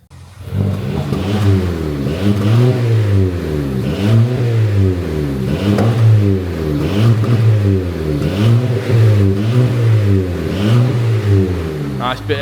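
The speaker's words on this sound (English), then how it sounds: "Let you have a listen to it on the road." A Seat Ibiza 1.2 TSI with a custom resonated cat-back exhaust drives on the road. Its engine drones steadily and swells and falls in repeated rev rises and gear changes, loud and close throughout.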